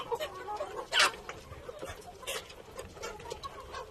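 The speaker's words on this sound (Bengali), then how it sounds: "এখানে আমার প্রায় 156টা অস্ট্রালপ মুরগি আছে" Australorp chickens on a farm with many hens and roosters make soft, scattered clucks and short calls at moderate distance, one louder burst early on.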